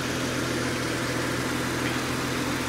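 A 1995 Jeep Cherokee engine idles just after startup, a steady low rumble with a constant mechanical drone and no voices.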